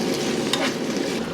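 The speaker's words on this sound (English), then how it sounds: "this is tomato and mascarpone sauce, which is now going into our pasta" Tomato and mascarpone sauce being stirred into cooked pasta in a pan, a brief close wet squelching and light sizzle with one soft scrape, no talk.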